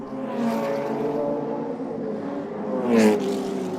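The 1600cc engine of a low-slung Lenham P70 race car drones steadily at a historic motor racing festival. It swells slightly toward the end as the car draws closer.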